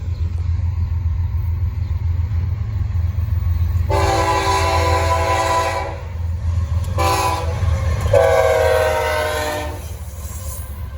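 Norfolk Southern freight train with BNSF and Canadian National locomotives passing on the Charlotte District, a deep rumble under loud horn blasts: one long blast, then two shorter ones in close succession.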